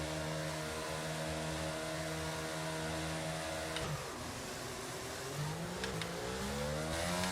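An F1 race car in F1 22 launches off the starting line at the Italian GP: a high screaming engine climbs through the gears, briefly dips at an upshift, then keeps rising, loud and alone.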